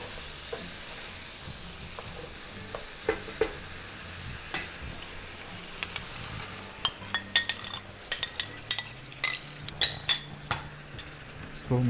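A spoon stirs korma masala and yogurt in a pan over a steady low sizzle, with scattered soft scrapes that turn into quicker, brighter clinks and taps against the pan toward the end.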